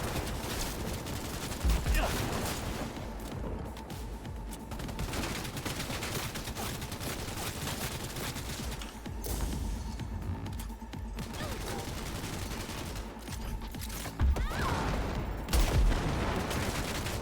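Gunfire and grenade blasts fill a Cyberpunk 2077 firefight on a hard difficulty, with rapid volleys and several heavy booms, loud and continuous, while a voice talks now and then.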